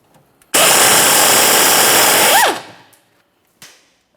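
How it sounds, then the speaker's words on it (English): A power ratchet works the rear sway bar link nut on a 2014-2018 Mazda 3: a single loud, close whirring burst of about two seconds that winds down, followed by a faint knock. "I have my ratchet at the end here"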